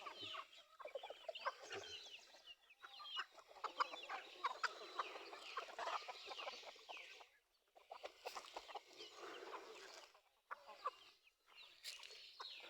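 Many chickens cluck and chatter together in a dense, continuous flock noise, with a few short pauses and sharper squawks breaking through, no talking.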